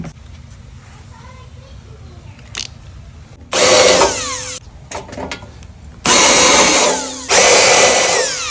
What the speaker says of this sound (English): now I'm going to do the countersink.